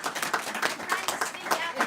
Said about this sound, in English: let's give Senator Shaheen a big round of applause.